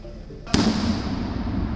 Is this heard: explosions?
yes